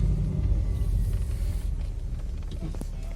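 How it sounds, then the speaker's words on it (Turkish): A car's engine and gearbox run with a steady low rumble through gear changes, the engine note dipping slightly partway through, with faint clicks near the end. "Şöyle vites geçişleri gayet rahat."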